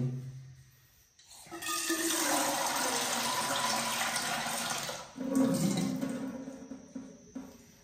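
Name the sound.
water poured into cooking pot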